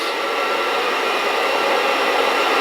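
A Fresh Roast SR800 home coffee roaster runs at power setting 9, giving a loud, steady fan roar and hiss that holds unchanged throughout, with no voices.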